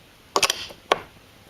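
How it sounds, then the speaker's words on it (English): A faucet spout assembly is pushed back into place, giving a quick cluster of small, close metallic clicks and a creak, then one more click, all fairly quiet. "Reinstall the spout assembly."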